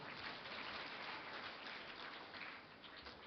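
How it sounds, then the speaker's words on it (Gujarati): An audience at a speech claps in a continuous, dense wash of applause. It sounds faint and distant, with no talking over it. "તાળીઓ પાડો પાડો, બીજા જાગે."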